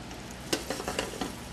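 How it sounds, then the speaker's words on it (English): Chicken breasts sear quietly in a hot pan, a soft steady crackle with a few brief louder pops and stirring scrapes. "You got a nice sizzle in your pan."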